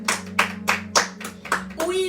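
A church congregation claps in a steady rhythmic beat, about six loud, full claps in two seconds, over a sustained low musical hum.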